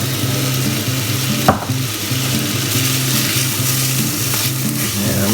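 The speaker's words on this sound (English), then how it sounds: "Yeah, you want to sort of fry the rice a little bit." Rice and mushrooms fry in oil for a risotto, giving a steady, close sizzle with scraping stirs and one sharp knock partway through, and no talk.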